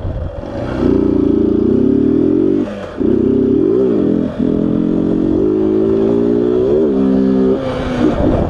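A motorcycle engine revs hard and close, rising and falling in several throttle bursts with brief drops between them, loud and alone.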